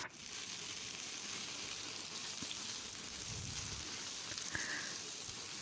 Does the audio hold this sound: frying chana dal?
yes